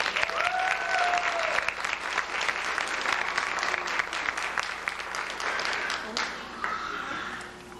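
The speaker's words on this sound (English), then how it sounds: "Let's start by giving them all a big round of applause." Sustained applause from an audience at a kindergarten graduation, dense steady clapping throughout, with a few voices and cheers mixed in, tapering slightly near the end.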